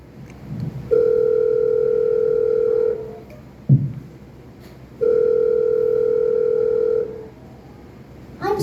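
Two long, steady ringing tones over a phone line, each lasting about two seconds, separated by a pause with a soft click in between.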